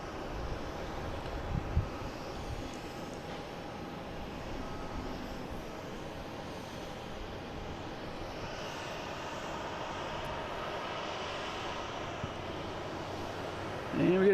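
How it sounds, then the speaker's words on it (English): A Delta airliner taking off at Boston Logan International Airport gives a steady, broad engine roar that holds at a constant level and sounds fairly distant, under a continuous wind-like rumble. "And we get Delta taking off"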